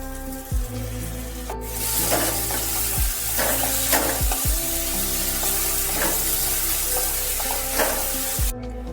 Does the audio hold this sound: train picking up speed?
no